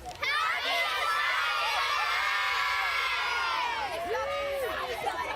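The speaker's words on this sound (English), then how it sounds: "You've drawn quite the crowd there, Sherry" Families gathered at Matilda Bay on Australia Day form a lively crowd, children shouting and people cheering and whooping in a steady, loud wash of voices, with sharper squeals rising near the end.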